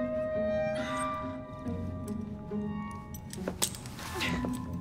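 Keys jingle and clink in several short bursts during a tense scene in Assassin's Creed Syndicate, mixed with a low ambient hum and some nearby movement.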